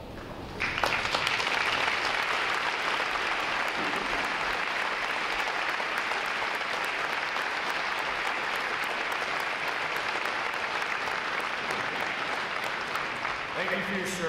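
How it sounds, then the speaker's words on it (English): Sustained applause from a large audience at a U.S. Navy Recruit Training Command graduation, honoring veterans as they rise; steady, dense clapping fills the hall for about fourteen seconds after a brief quiet start. "Would all our veterans please rise and give you a round of applause."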